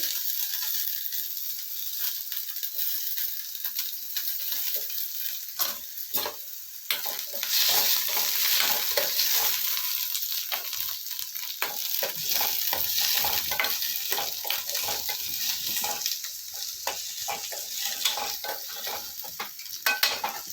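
Garlic and other chutney ingredients sauté in a pan under a constant bright sizzle, with frequent clicking, scraping stirs from a spatula throughout, close and steady with no talking.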